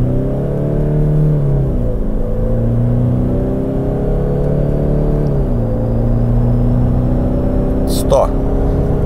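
Toyota Fortuner 2021 SUV accelerating hard in manual mode on a 0-100 run, with engine drone rising in pitch through gears, brief dips at the shifts, a constant loud interior rumble, and someone talking over it.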